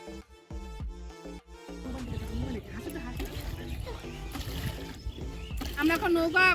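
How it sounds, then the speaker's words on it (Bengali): A wooden boat is rowed across a river with a strong current, giving faint splashes and sloshing of the oars. Voices talk over it, and louder chatter comes near the end. "আমরা এখন নৌকা চালাচ্ছি, ঠিক আছে? আর এখন নৌকা চালিয়ে আমরা ওই পারে যাব।"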